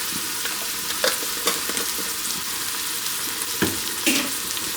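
Onions and garlic brown in a frying pan, giving a continuous close sizzle broken by scattered clicks and scrapes of stirring.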